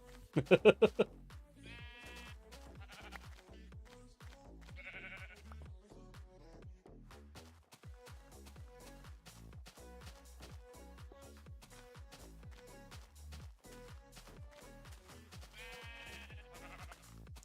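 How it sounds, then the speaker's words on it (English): Sheep bleating in a few short calls over steady rhythmic game music, the bleats fairly clear but not loud. "Oh, more sheep."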